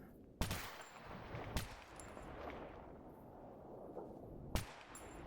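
Three sharp gunshots from S.T.A.L.K.E.R. GAMMA ring out, each a loud, hard crack with a short decaying tail, spaced a second or more apart over a steady low ambient rumble.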